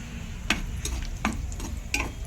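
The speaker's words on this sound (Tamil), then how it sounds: "பொரியட்டும்." Cashews and raisins frying in ghee, a continuous close sizzle broken by a few sharp scraping taps of stirring at irregular intervals.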